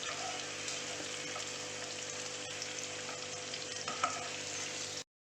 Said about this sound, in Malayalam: നമ്മുടെ ക്യാപ്സിക്കം ക്യാപ്സിക്കവും പനീറും നല്ലോണം ഫ്രൈ ആയിരിക്കുകയാണ്.